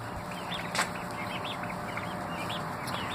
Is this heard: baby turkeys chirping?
yes